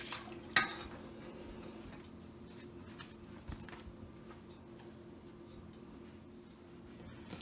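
Spoon stirring a fireweed and raspberry jelly mixture with sugar in a pot, giving soft scraping and occasional sharp clinks against the metal, fairly quiet and close.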